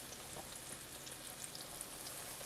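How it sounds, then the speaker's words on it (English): Soft, steady sizzling and crackling of breaded chicken-of-the-woods mushroom cutlets frying in hot oil, faint and continuous with tiny pops. "So while these are frying"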